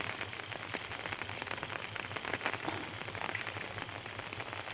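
Steady rain pours over a village farm field with a well motor, a dense continuous hiss of drops on surfaces, even and unbroken throughout.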